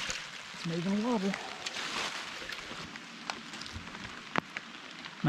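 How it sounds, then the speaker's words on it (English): Light rain falls steadily outdoors at a concrete-forming site, a soft, even patter with occasional sharper drops, and a voice briefly speaks early on. "Not raining hard"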